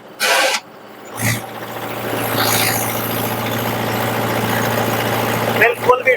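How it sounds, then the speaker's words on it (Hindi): Mahindra Yuvo Tech+ 585 DI 4WD tractor diesel engine running steadily at about 1700 rpm, a loud continuous low rumble with vibration, after a couple of short bursts of noise at the start. "अभी ट्रैक्टर जैसे स्टार्ट हुआ, हाँ इतना कंपन तो ट्रैक्टर कर रहा है।"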